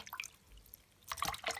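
Water drips and trickles softly while mushrooms, including jelly ear fungus, are washed and soaked in drinking water, with a few faint splashes and short bursts of running water, quiet and close.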